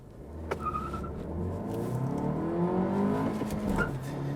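A 25-year-old Honda's 1.5 liter turbo engine hums steadily from inside the car, its pitch slowly rising as it accelerates, with faint clicks and road noise.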